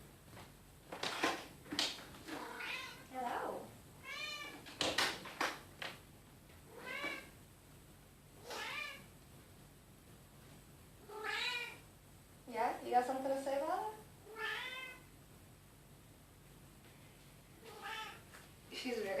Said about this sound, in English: My cat's like 20 years old, so she likes to yell at me.